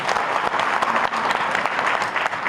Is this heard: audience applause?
yes